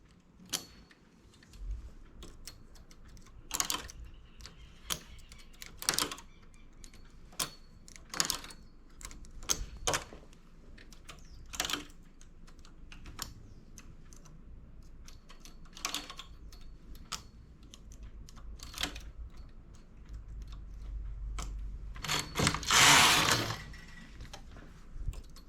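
A domestic knitting machine being worked while a leaf-stitch variation is made: scattered sharp clicks and clacks of needles being moved by hand, irregularly spaced and close, with a louder sliding rasp of the carriage near the end.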